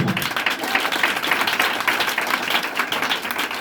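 A church congregation applauds, producing continuous crowded clapping at a steady level from start to finish, close and fairly loud, with no speech over it.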